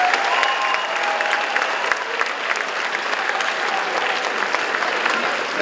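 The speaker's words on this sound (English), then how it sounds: "round of applause, please." Graduating crowd at the 2019 River Rouge High School commencement giving school staff a loud, continuous round of applause, dense clapping with faint cheers mixed in, no speech over it.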